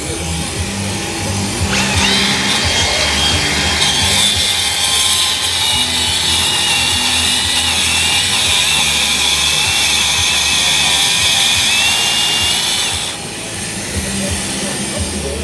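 A power saw cuts while a dust extraction vacuum runs at a World of Concrete 2024 tool demonstration. A loud, close, steady grinding whine rises sharply, holds for about eleven seconds, then drops away over a lower background hum.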